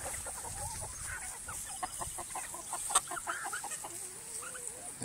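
Young Dominique chickens, a rooster and two hens, cluck steadily and close by, with soft chatter and a few louder calls over a constant high background hiss.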